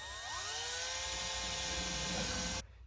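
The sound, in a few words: drilling holes for billet pedal installation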